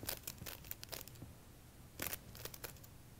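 Playing cards riffled and snapped through a false shuffle at speed, with quick bursts of crisp card noise in two clusters separated by a short pause, close and fairly quiet.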